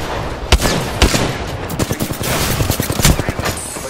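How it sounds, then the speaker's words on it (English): Rapid bursts of gunfire from the battle game Apex Legends, dense automatic shots with a few sharper single cracks, loud and close, filling the whole stretch without pause. "Fire, firing on subject."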